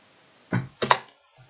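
A short burst of computer keyboard typing, a few quick clustered key clicks close by, with a brief pause between two groups and quiet around them; no talking.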